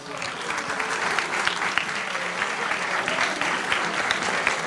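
An audience at the Palácio de Belém applauds a Portuguese singer, a dense, steady wash of many hands clapping, loud and continuous throughout, with no talk on top.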